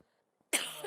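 A single sharp cough bursts out close to the microphone after a near-silent moment, as though the person had choked slightly.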